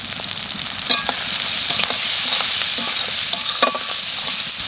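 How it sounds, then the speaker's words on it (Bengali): Ground spices, green chilli, salt, turmeric and coriander powder frying in a pan before okra goes in, a loud close sizzle broken by repeated sharp scrapes and clinks of a spatula stirring. "মশলাটা একটু বাজিয়ে নিলাম"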